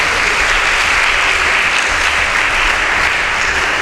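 An audience at a school debate in Nigeria applauds the student contestants, with loud, thick, sustained clapping from a crowd that fills the room without a break.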